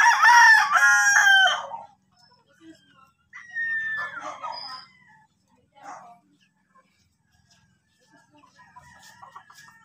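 A rooster of a small bantam-type breed crows loudly and close at the start, a harmonic drawn-out call, followed by quieter clucking, scattered fowl sounds and some talk in the background.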